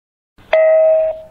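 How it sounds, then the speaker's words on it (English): A single electronic chime from a Wi-Fi smart video doorbell rings once, a clear sustained tone that holds briefly and then fades, close and on its own. "Doorbell ringing duration is 30 seconds for each call."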